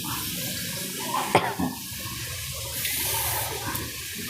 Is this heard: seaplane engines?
no